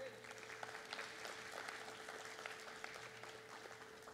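A church congregation applauds steadily during a Spanish-language worship service, the clapping faint and distant throughout under a low hum.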